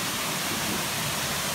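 Pala Munsoh waterfall in Ulu Sarikei, Sarawak, pouring as a constant, even hiss and rumble of water, close and loud, with no talking over it.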